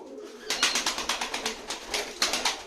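Tumbler pigeons stir inside a pigeon loft, giving close, loud, rhythmic pulses of coos and fluttering wings that repeat quickly throughout.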